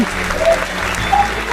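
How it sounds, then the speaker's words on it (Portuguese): Applause from a church congregation during a worship service, a loud, steady burst of clapping that fills the whole clip with no clear speech. "dá uma linda salva de palmas para Jesus"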